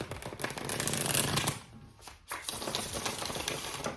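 A deck of tarot cards, tall folklore-style cards, is riffled in rapid, papery bursts at close range, pausing briefly midway before the fast shuffling picks up again.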